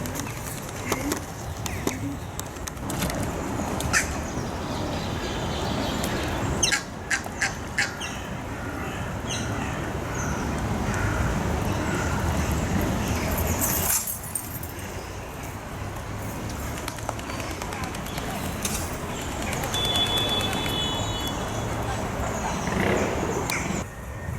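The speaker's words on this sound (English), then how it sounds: "But yeah, ducks." A busy outdoor scene with many birds calling, ducks quacking among pigeon-like coos, over steady wind and rushing noise.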